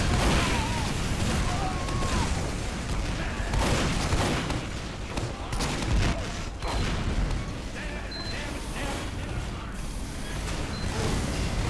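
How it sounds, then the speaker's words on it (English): Rocket blasts and sticky bomb explosions go off in dense, overlapping bursts during a chaotic team shooter payload fight on the Badwater map, loud and continuous with gunfire and game effects throughout. "Look at the spam. Look at that glorious explosion"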